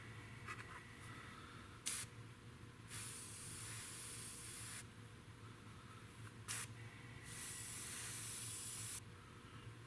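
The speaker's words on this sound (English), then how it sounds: "even though this bottle of shit is expensive as hell, it sprays so beautifully." A spray can lays silver paint onto a plastic model kit in steady hissing bursts of a few seconds each, close and alone, with a couple of sharp clicks between passes.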